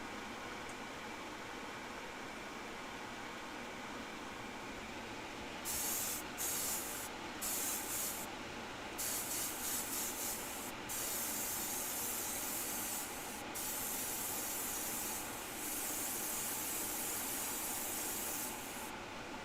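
An airbrush spray gun spraying paint hisses in intermittent bursts over a steady background rush, with short sputtering gaps between the sprays, spitting from water left in the gun.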